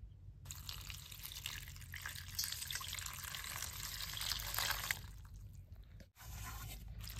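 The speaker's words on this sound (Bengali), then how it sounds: "আমি পাতা দিয়ে এখন পরিষ্কার করে ধুয়ে নেবো" Running water splashes and trickles as leaves are washed clean by hand for cooking, a steady close rush with scraping and squishing, a short pause near the end before the flow resumes.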